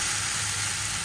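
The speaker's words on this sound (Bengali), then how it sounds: "পেঁয়াজটা ভাজা হয়ে গেছে, পেস্টটাও হয়ে গেছে, আদা রসুন কাজু আমন্ড সব পেস্টটা দিয়ে দিলাম এর মধ্যে" Ginger, garlic, cashew and almond paste frying with browned onions in a pan, a dense, even sizzle that holds steady and close throughout, no talk.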